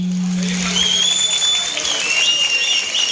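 A crowd at an outdoor summer evening concert in Ağva claps in a steady wash, with high sustained whistle-like tones rising over the applause.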